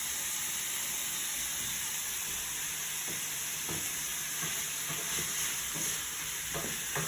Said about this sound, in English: Okay, boiling away rapidly.